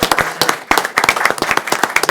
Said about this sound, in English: So one more round of applause for this amazing team.